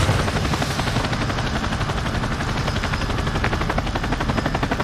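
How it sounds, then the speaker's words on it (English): A chopper gunner helicopter in a video game fires from above: a steady, loud rotor roar runs through the whole stretch with rapid automatic gunfire crackling on top, and no voices. "We're afraid of the big bad chopper gunner."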